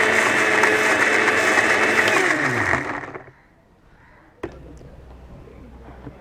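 An electric blender grinding jackfruit seeds, a loud steady whirring roar that winds down and stops, followed by quiet and a soft clunk as the jar settles.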